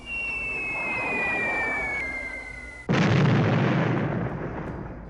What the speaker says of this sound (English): The 17s drop their bombs.